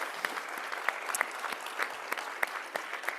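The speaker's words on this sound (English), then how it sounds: "So I think they deserve a round of applause." An audience at a national brain bee competition final claps for the student finalists, dense steady applause with sharp individual claps standing out throughout.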